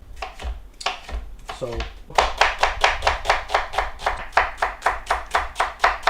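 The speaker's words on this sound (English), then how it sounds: "So we're going to get these into a nice julienne." A knife chops vegetables into thin julienne strips on a cutting board, a steady run of sharp, evenly spaced taps that quickens after a brief pause, with a short spoken word at the start.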